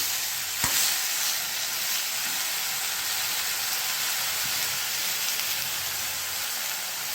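Tomato chutney ingredients sauté in a pan with a steady, close sizzle and hiss. A single utensil clink sounds near the start.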